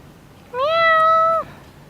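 A cat hiding from people trying to coax it out gives a single clear, drawn-out meow lasting about a second, close and loud against a quiet background.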